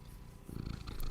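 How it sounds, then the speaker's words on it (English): A pet cat purrs close to a microphone, a soft low rumbling that pulses steadily and grows slightly stronger toward the end, faint and alone. "You could hear her purring."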